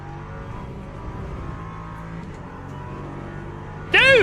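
An LMP3 race car engine in a racing game drones steadily at moderate level, then a sharp rising rev or shift whine bursts in near the end.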